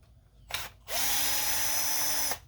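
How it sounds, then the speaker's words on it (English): A short power-drill burst driving screws into an RC car's bulkhead, then a longer steady whir of the motor spinning for over a second before stopping, close and loud. "I'm just using the drill to make it a little bit faster."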